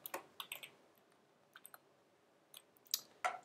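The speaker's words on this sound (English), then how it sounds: "Excuse my appalling typing." Sparse, quiet clicks of typing on a computer keyboard while coding, a few short bursts of keystrokes with pauses between them, close and alone with no talk.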